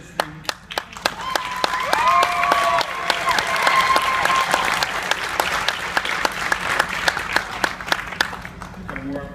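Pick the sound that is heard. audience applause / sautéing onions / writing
audience applause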